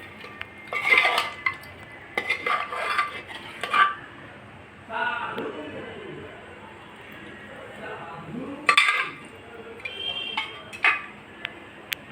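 Prepared mutton goes into a pot of biryani with clanking, scraping and clattering of utensils against the pot, coming in scattered bursts amid softer rustling, with a voice talking in between.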